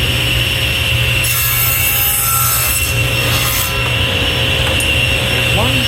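Table saw crosscutting a piece of wood with a miter gauge: a steady motor hum with a brief rising cut as the blade passes through the board, then the blade spinning on.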